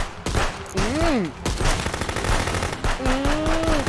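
Rapid bursts of automatic AK rifle fire trade with pistol shots in the ContraBand Police game. The gunfire is loud, dense and continuous, and a voice lets out rising exclamations over it.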